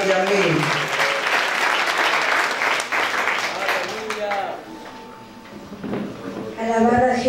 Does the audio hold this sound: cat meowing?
no